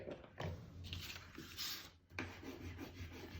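Dry rasping strokes of a crayon or pencil rubbed over textured paper for a collage, several scratchy passes in a row, close and fairly quiet with no voices.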